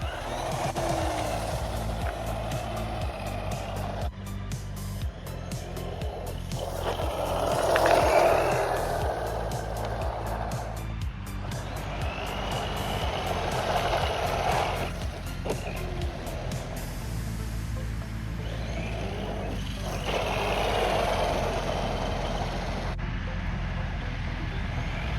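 The small brushed electric motor of a DeeRC 9207E 1/10 scale radio-controlled truck whines steadily, its pitch rising and falling as it drives about, with faint scuffing outdoors.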